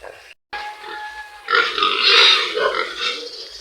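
Recently weaned native piglets grunt and snuffle close by in a pen, a burst of low, rough grunts that swells after a brief gap, with no talk.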